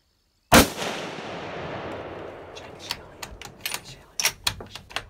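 A single loud rifle shot cracks out during an Alabama wild hog hunt, its echo trailing off across the open ground, followed by a scatter of sharp metallic clicks and knocks.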